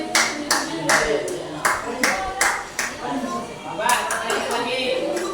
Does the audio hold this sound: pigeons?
no